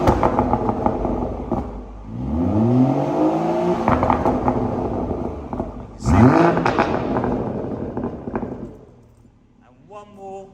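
A BMW 340i M Sport Shadow Edition automatic with a Remus stage 2 cat-back exhaust in sport mode, valve open, revs twice indoors with echo off a wall; loud rising engine swells over idle while people talk.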